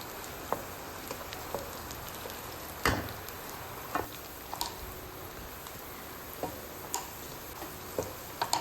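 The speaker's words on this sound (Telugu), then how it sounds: "సో ఇలాగా ఉల్లిపాయలన్నీ బాగా ఫ్రై చేసుకుందామండి" Onions frying in a pan give a constant bright crackling hiss, punctuated by regular ticking clicks and occasional louder taps of a spoon against the pan, close and fairly loud.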